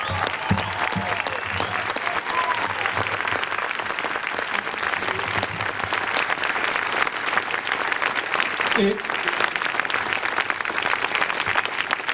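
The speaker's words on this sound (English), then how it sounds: "Let's give Bill another round of applause." Audience applause following a talk by Bill McKibben on coal, climate change and activism, a long, steady wash of clapping from a large crowd, with a brief voice briefly cutting through near the end.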